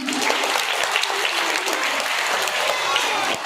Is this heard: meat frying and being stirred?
no